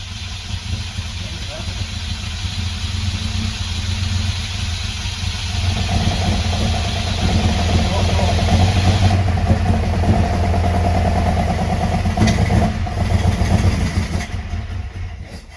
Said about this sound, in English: Oh, the roar of the mighty 3-cylinder.